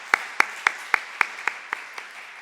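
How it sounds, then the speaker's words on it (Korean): A church congregation claps to honour its teachers during a Sunday service. About eight sharp, evenly spaced claps are heard at moderate distance, with quiet room tone between them and no voices. "우리 교사 하시는 분들에게 우리 격려의 박수를 한번 하겠습니다"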